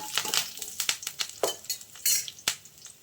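A spoon clinks and scrapes in a pan as four or five sliced garlic cloves are stirred for a dried mango pickle, with a faint sizzle; quick, irregular, close-up strokes.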